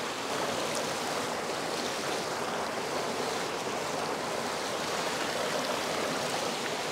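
A river runs steadily past the riverside at Sittong, a continuous broadband rush of flowing water holding close and even for the whole stretch, with no voices present.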